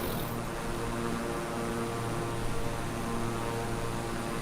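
Steady droning hum of an airplane cabin during a virtual reality flight, a constant low engine tone with faint tonal lines and no talking.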